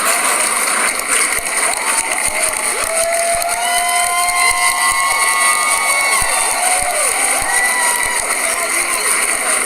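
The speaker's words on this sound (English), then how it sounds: "just begin to clap" A large conference audience claps and cheers in a hall, producing a dense, continuous roar of applause with shouts rising over it, loud and sustained from start to finish.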